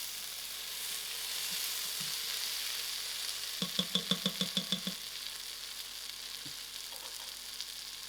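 Spicy lentil soup being stirred in a pressure cooker after a grind of pepper, with a soft steady sizzle and a brief run of rhythmic scraping strokes in the middle, close and alone.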